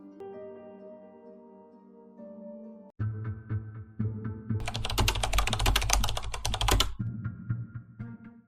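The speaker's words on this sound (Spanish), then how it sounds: "El sonido de los teclados, la luz de la pantalla y el sonido distante de la lluvia golpeando las ventanas parecían acompañarme" Keys clatter on a computer keyboard in a rapid, dense burst of typing, close and fairly loud, following a steady droning tone.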